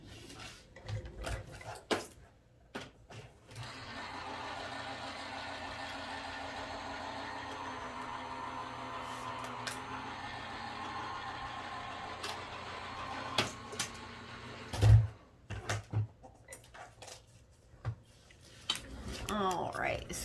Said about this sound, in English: I'm going to run that through the die cut machine